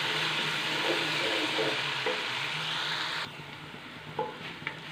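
Ginger garlic paste fries in a pan with a steady sizzle as a spoon stirs it, loud and close, then the hiss drops lower with a few scraping taps near the end.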